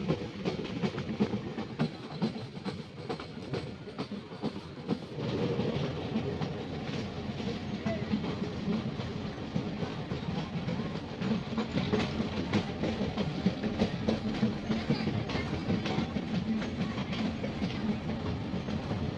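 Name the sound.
meter gauge train running on rails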